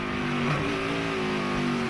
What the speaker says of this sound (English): I heard Paul Menard's car wheel hop